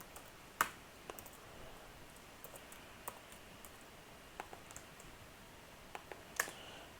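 Computer keyboard keys tapped in a few scattered, quiet clicks over a faint background hiss, with no talking.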